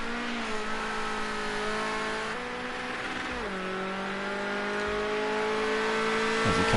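A Ford Escort RS 1600 race car laps Oulton Park at race pace, its engine droning loud and steady close by, pitch sagging and rising through gear changes and corners, with no talk over it.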